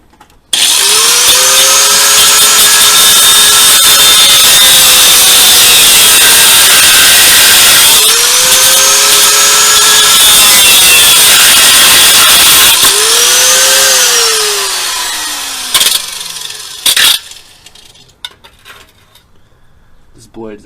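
A power saw cuts through the exhaust pipe of a cheap Mazda Miata during a turbo build, giving a loud harsh whine that rises and falls in several long strokes before stopping, followed by a few clanks and a voice.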